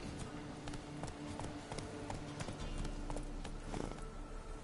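Hoofbeats of Roach, the horse in The Witcher 3 on PS4, galloping in a steady clip-clop rhythm over a dense, continuous game soundscape, moderately loud and unbroken throughout.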